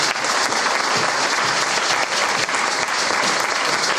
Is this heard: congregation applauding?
yes